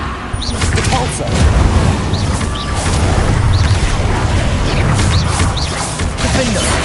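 Depulso spell cast in the video game Hogwarts Legacy: dense, loud magical whooshes, booms and impact crashes with continuous rumbling battle noise throughout.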